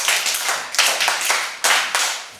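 A classroom of children claps for a classmate in rhythmic bursts of hand clapping, three or four loud waves of group claps, close and clear with no talk over them.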